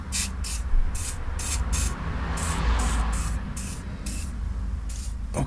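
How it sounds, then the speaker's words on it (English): Short repeated hisses from a WD-40 spray can aimed at rear engine mount nuts during an engine mount upgrade, a series of about a dozen quick bursts over a low background hum. "just going to use the magic WD-40 just to loosen everything off"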